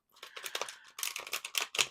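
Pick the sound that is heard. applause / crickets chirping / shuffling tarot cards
shuffling tarot cards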